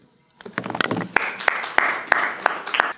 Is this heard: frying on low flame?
no